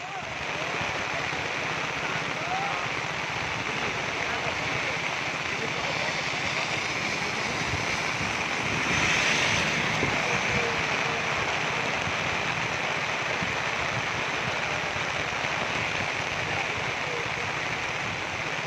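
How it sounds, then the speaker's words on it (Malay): Heavy rain pours down during flooding in Kuantan, a dense, steady hiss that holds at the same loud level for the whole stretch, with no voices over it. "Hujan semakin lebat."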